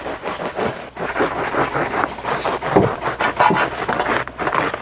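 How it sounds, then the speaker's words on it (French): A hand saw cuts through the thick lower roots of a dug-up agapanthus clump, giving rapid, rough back-and-forth rasping strokes that are close and loud, with no talk. "je vais déjà scier ça, ça sert à rien, ça me fait du poids pour rien"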